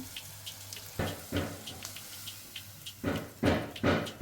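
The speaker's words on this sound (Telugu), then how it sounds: "నీళ్ళు వేసుకున్నామండి" Water pours in a few short bursts, splashing into a cooking pot of dal khichdi with faint clinks between pours.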